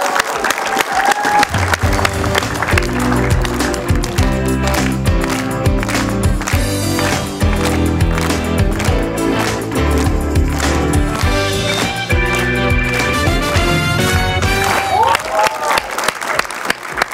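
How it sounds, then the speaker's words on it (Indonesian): Loud, sustained audience applause with cheering fills a studio during an Indonesian television talk show as a weightlifting athlete is welcomed, steady and dense throughout. "berikan tepuk tangan meriah untuk Windy Cantika."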